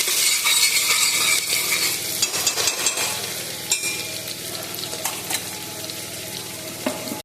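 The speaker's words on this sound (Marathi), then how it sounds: "बारीक चिरलेला कच्चा कांदा चांगला परतून घ्यायचा." Finely chopped raw onion for a mutton dish frying in a pan: steady, close sizzling with scraping and stirring throughout, no voices.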